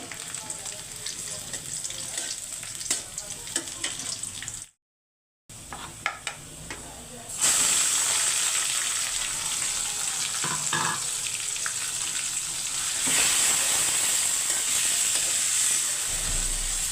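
Red amaranth greens hiss and sizzle as they are tempered in hot oil in a pan, with stirring scrapes. The frying is steady and close, with a short gap, and grows louder and brighter midway through.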